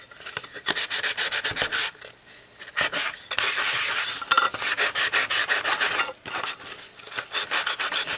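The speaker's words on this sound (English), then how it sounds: "Just get this scuffed up enough so that your paint will have something to stick to." A glass pickle jar is scuffed by hand to rough up its surface for paint, making repeated rasping strokes in quick rhythmic bursts with a few short pauses, close and fairly loud.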